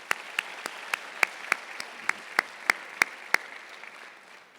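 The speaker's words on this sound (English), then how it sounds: "Let's give him a round of applause." At a university awards convocation, an audience claps together in a steady, fairly quick rhythm, a dozen or so sharp beats over a soft wash of scattered applause that fades out at the end.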